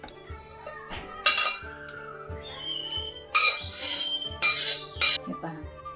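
Roasted sesame seeds scraped and tipped from a pan into a mixer jar, with sharp metallic clinks and clatters of utensils in irregular bursts, close and fairly loud against a quiet kitchen.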